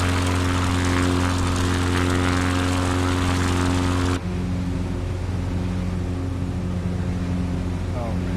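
A CubCrafters NX Cub bush plane flies across New Zealand with a loud, droning propeller and engine hum that drops in tone partway through, and voices talk over the noise.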